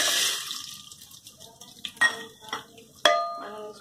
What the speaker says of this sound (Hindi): ऑयल अच्छे से गर्म हो गया, अब इसमें डालेंगे मक्के के दाने